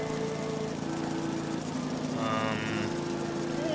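A tractor's engine drones steadily while it mows a field in Farming Simulator 22, loud and continuous with a brief rise in pitch partway through and no voices.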